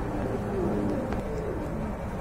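Pigeons at a market selling native and foreign breeds, including Andalusian-coloured Beauty Homers, coo in low, burbling calls over a dense, continuous crowd of birds nearby, with no talking.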